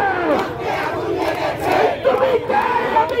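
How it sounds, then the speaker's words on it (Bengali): Students protesting at Dhaka University against rape roar out slogans together in loud, rhythmic crowd chants that swell and fall. "এ সময় তারা বিভিন্ন স্লোগান দিতে থাকেন।"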